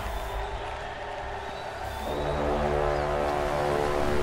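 Crowd cheering in the adventure game Broken Age, a muffled steady murmur that swells louder partway through, with a sustained tonal layer of game music underneath.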